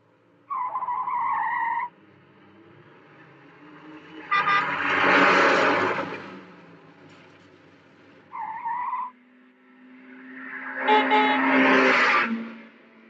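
Car chase from a 1975 giallo film: two bursts of loud car horn honking alternate with roaring engines and skidding tyres, the horn blasts short and sharp, the engine-and-skid passages longer and swelling.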